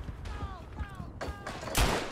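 Gunfire and blasts in the First World War shooter Verdun, a few sharp, loud reports over a busy background of battle noise, the last one the heaviest.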